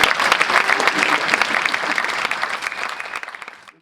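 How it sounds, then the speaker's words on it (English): A school concert crowd claps steadily for a few seconds, dense applause that gradually fades out. "Round of applause."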